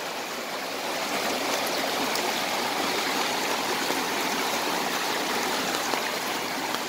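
Floodwater rushes through a big culvert after heavy downpours, a steady, loud roar of churning water that holds constant throughout with no voices.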